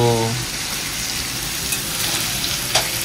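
Crabs and chicken frying side by side in a home kitchen, producing a dense, steady sizzle up close, with a brief voice at the start and a faint clink near the end.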